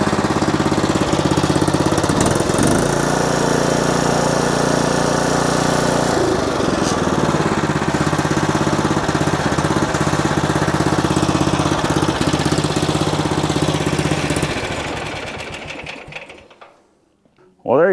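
A lawn mower engine runs on a new replacement carburetor, a loud, steady buzzing drone that holds for about fourteen seconds, then sputters and dies away to near silence before a brief closing sound.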